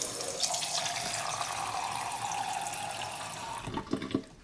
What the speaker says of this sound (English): The first thing that we're going to do is add water into our bottom cell.